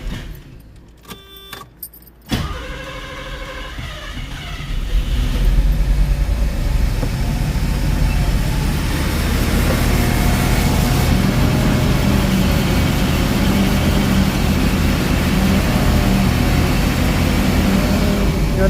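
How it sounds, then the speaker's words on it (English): A 1976 Mercedes 450 SL is cranked with a few rough starter turns, then fires and settles into a loud, steady idle that carries on close by without a break, and no one speaks. "Let's see if she'll start back up."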